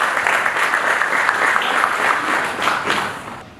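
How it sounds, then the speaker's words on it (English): Dense, steady applause from an audience at the MeTL Graduate Development Programme 2020 event, many hands clapping at once for the whole stretch before tapering off at the very end, with no voices on top. "A lot of applause."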